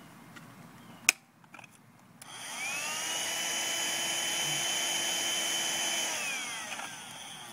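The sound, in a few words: vacuum cleaner sucking up bugs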